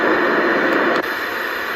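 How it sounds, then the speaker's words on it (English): Steady pink noise from a sleep sound machine, a dense, even hiss that stays level throughout with only a slight dip partway through. "pink noise"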